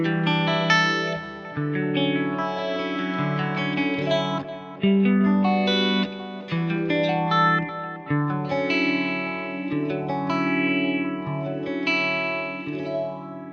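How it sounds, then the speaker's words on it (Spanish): Electric guitar played through a phaser modulation effect, swirling and sweeping across sustained chords and picked notes, loud and alone with a psychedelic, warbling tone. "Otro efecto que es así como psicodélico y raro es el phaser"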